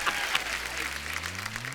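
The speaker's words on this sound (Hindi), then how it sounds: "जोरदार तालियां मेरे लिए।" A studio audience on a comedy show claps in a brief burst of applause, a dense, even wash of hand claps with a low tonal hum underneath.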